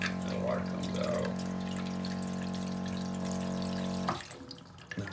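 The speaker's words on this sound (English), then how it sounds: "this little push button that turns on the pump. The water comes out." Water runs from a camping trailer's sink faucet fed by a push-button pump, a steady close stream with a constant motor hum underneath that cuts off abruptly near the end.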